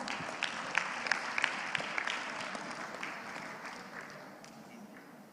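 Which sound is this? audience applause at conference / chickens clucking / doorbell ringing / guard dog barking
audience applause at conference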